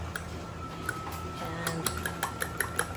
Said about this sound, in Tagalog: Batihin lang natin ng super bating-bate para madurog ang kanyang pula at saka yung pinaka-puti